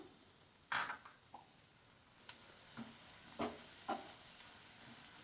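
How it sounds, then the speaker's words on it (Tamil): Beetroot halwa with roasted cashews and raisins gets stirred in a pan, giving a few scattered scrapes and soft sizzling scrapes of a spoon against the pan, faint and close, with no voices. "இதில் நம்ம வறுத்து வச்சுருக்கிற முந்திரி பருப்பு திராட்சை ரெண்டையும் சேர்த்துட்டு நல்லா மிக்ஸ் பண்ணிவிட்டு நம்ம ஸ்டவ் ஆட்டி இறக்கிக்கலாம்."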